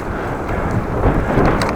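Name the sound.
strong wind blowing on bike ride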